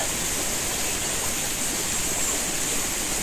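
River water flowing through dense, overgrown forest, a steady, even rushing hiss that fills the whole stretch, with no voices or other sounds on top.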